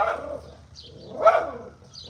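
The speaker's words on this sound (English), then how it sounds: "Now he's barking at people." A dog gives a couple of muffled barks, one near the start and a louder one about a second later, close by.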